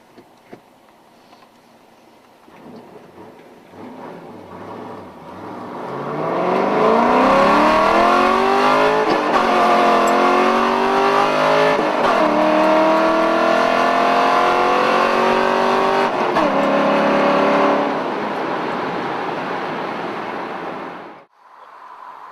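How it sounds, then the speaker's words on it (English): A 2011-13 Camaro SS convertible with a six-speed and a Corsa cat-back exhaust accelerates hard with its top and windows up, its deep roar swelling and climbing through several gear shifts before cutting off. "We're going to see what this exhaust actually sounds like under pressure"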